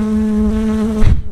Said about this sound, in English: There's a bee on the mic, so it's going to be very loud.